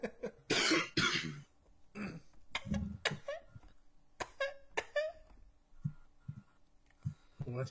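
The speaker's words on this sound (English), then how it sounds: "So I cough now." Coughing sound in a prop hunt video game, several short harsh coughs and throat-clearing bursts early on, followed by scattered quieter coughs and grunts, with players' voices mixed in.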